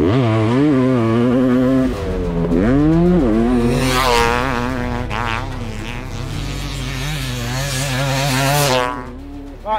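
A race motorcycle screams through a hot lap, its high-revving engine note rising and falling through gear changes and corners, loud and continuous for nearly ten seconds before briefly dropping away.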